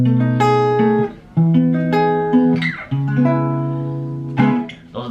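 Guitar plays the chord progression of a song as a steady series of strummed chords, each ringing for about a second with short breaks between changes. The sound is close and clean, with no voices.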